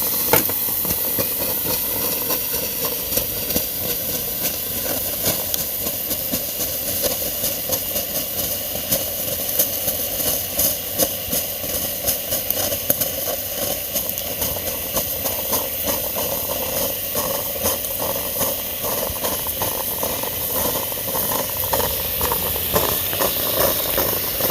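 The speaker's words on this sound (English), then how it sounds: "looks like coffee maker works just fine on 240 volts" A coffee maker running on 240 volts hisses with steady, loud steam, a dense unbroken rush that holds at the same level for the whole stretch.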